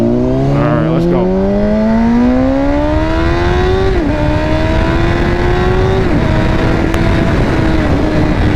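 A motorcycle rides continuously and loudly up close, its engine note climbing through gear changes with steady revving, recorded on the move.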